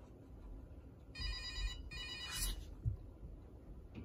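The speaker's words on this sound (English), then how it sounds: "I'm getting a call." A toy handy dandy notebook phone rings with a bright electronic tone, two short bursts close by, followed by small handling knocks.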